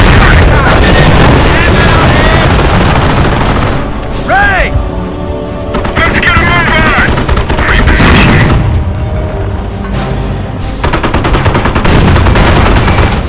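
Battle gunfire in Company of Heroes: dense, continuous machine-gun and rifle fire with heavy booms, loud throughout, with radio-style voices and shouting mixed in.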